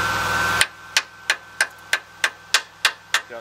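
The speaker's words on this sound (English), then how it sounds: "let's get the hammer, chipping hammer, and chip the flux off." A chipping hammer knocks flux off a weld in a steady series of about ten sharp metallic taps, close and evenly spaced, following a brief burst of louder noise at the start.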